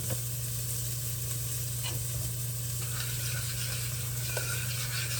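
Sausage fries in a pan, cooked until a little burnt, a quiet, even sizzle with faint stirring clicks, sitting over a steady low hum.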